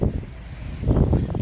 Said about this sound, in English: It's kind of windy, so you're gonna hear a lot of wind in the background